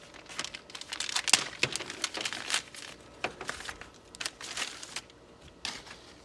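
A pre-packaged Audi front hood lift is cut open and unwrapped, giving close, irregular crinkling and tearing of plastic wrap with soft rustles and a few sharp cracks, without any talking.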